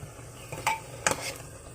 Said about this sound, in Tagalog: Haluin muna natin siya.